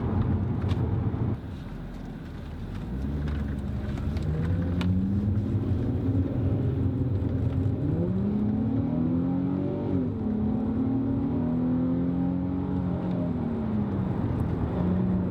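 An Infiniti G35 Coupe engine revs up loud and near, its pitch climbing and dipping through repeated accelerations over a steady rumbling drone with wind noise.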